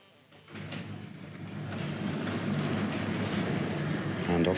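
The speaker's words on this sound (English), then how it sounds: "First toy trains on the new baseboard." A Tri-ang RS.2 toy train starts up on a model railway baseboard, its motor building into a loud, steady whirring rumble with faint rhythmic clicking from the track that grows louder over several seconds.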